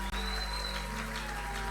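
Church congregation applauding and cheering in praise, a dense, steady wash of clapping close and loud throughout with a hum underneath.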